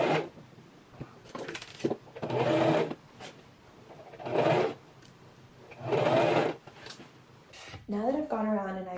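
A sewing machine stitches ruffles on a strapless drop-waist dress bodice under the presser foot, running in three or four short even bursts with pauses between, ending with a brief voice.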